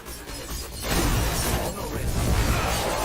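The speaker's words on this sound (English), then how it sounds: "they just did some damage to me because I stood in that explosion" An explosion in Diablo IV hits as a loud, shattering crash that turns into a dense, roaring burst and stays heavy for several seconds, with swooshing game effects layered on top.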